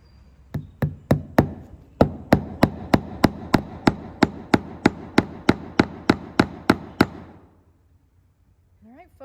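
A stamp is whacked onto barn wood with about twenty sharp, evenly spaced hard knocks, loud and close, before the pounding stops and the room goes quiet.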